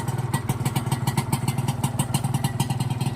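A 1997 Yamaha TZR150 two-stroke motorcycle, freshly started on its first kick, idles steadily up close with a rapid, even burbling pulse and no voices.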